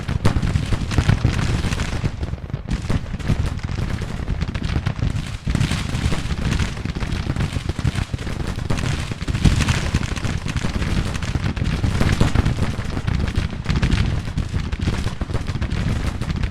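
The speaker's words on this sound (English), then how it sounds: "Baton Rouge boys, firing from the woods." Sustained massed rifle volleys from a brigade firing out of the woods in Grand Tactician: The Civil War, a dense, continuous crackle and rumble of musketry with booming reports, loud and steady throughout with no talking.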